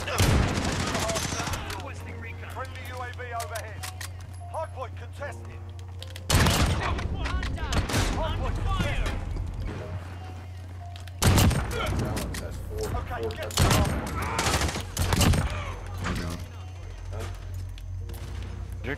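Modern Warfare video game gunfire, rapid bursts of automatic shots and single cracks recurring over a steady low game hum, with players talking over the action.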